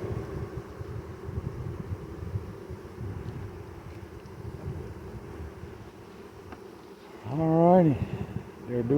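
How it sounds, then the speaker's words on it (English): A large honey bee swarm fans in a hive box, making a continuous low buzzing drone close to the microphone with some wind noise, and a person speaks briefly near the end. "They're fanning, so we know the queen's in there."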